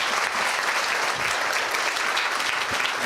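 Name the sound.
congregation clapping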